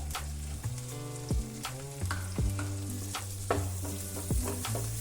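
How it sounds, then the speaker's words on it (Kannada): Chillies frying in a pan for white sauce pasta give off a close, steady sizzle. A utensil stirring the pan makes sharp, regular clanks and scrapes, and no one speaks. "ಇದು ಫುಲ್ಲು ನೀಟಾಗಿ ಫ್ರೈ ಆಗಬೇಕು."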